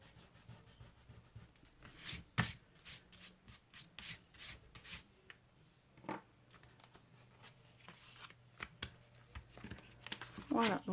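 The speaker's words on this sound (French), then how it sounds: "Je vais gommer tout de suite mon petit trait, moi." A rubber eraser rubs out a pencil line on paper during scrapbook album work: a series of quiet, close, quick scrubbing strokes in short bursts, with soft rustling in between.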